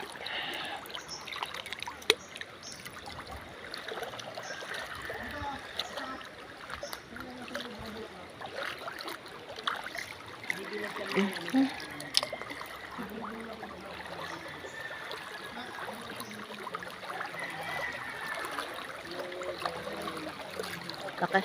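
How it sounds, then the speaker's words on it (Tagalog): Strong water rushing and splashing at Blue Rock, a steady close churning flow with scattered splashes and faint voices in the background. "Lakas ng tubig."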